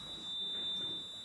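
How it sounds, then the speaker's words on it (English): Alarm going off indoors, a steady high-pitched electronic tone that sounds continuously and fairly faintly at a distance over a quiet room. "There's an alarm which has just gone off."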